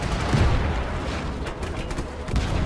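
Rapid bursts of gunfire in the video game Just Cause 3, with dense overlapping shots and rumbling booms that continue steadily throughout.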